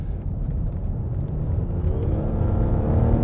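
A 2022 Lexus RX in Sport S Plus mode accelerating, a low engine rumble and whir that builds steadily in loudness and pitch over a few seconds, heard from inside the cabin with no talk.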